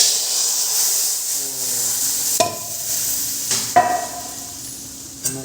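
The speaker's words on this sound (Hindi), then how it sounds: "अभी तड़का लगाएंगे रसम में।" A tempering of browned garlic in hot oil is poured into tomato rasam, giving a steady close sizzling hiss punctuated by a few sharp metallic clanks of a utensil.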